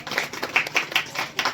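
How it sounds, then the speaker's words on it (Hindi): Loud clapping from an audience welcoming three prize winners at a coaching batch launch, with sharp individual claps standing out in a lively, uneven rhythm. "मैं चाहूंगा इन तीनों के लिए जोरदार ताली से स्वागत करें"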